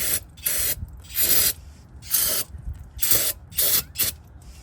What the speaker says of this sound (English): you can take some of your brake clean, spray it up in the housing